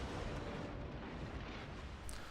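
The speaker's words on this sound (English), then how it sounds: "My guns are reloaded. I keep on firing at him." Warship naval guns firing in the World of Warships game, a dense, continuous roaring rumble of heavy blasts and booms, loud and sustained for a couple of seconds with no speech.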